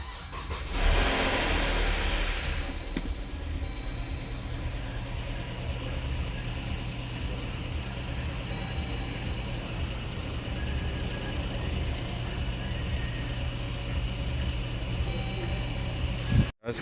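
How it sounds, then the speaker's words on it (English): A 2014 Dodge Durango 4x4 with a 3.6L engine cranks and fires up with a brief loud rev, then settles into a steady, close, continuous idle hum. "we're going to start this up and we're going to see if this thing runs"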